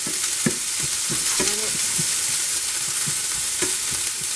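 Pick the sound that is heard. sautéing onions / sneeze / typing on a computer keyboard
sautéing onions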